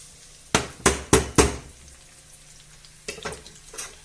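Chopped pepper and garlic land in a pan of hot oil with four sharp clattering hits, then a few softer stirs over a quiet, gentle sizzle.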